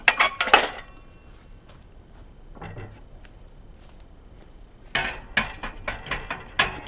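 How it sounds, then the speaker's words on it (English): A heavy-duty baking pan for an electric smoker is handled, giving clustered metallic clinks and clatters near the start and again toward the end, with a quieter faint knock in between. "we get a heavy-duty baking pan"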